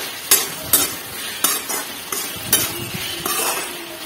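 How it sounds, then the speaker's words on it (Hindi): Sago khichdi with potato and tomato is mixed in a pan, with sharp spoon scrapes against the metal landing every half second or so over a soft sizzle, close by and with no voices. "साबूदाना डाल के हम इसको अच्छे से मिक्स करेंगे"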